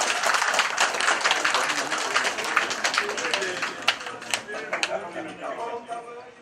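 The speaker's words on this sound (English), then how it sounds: "Clap for him now." An audience at a book launch and review applauds, with brisk, dense clapping close by that gradually thins out over several seconds.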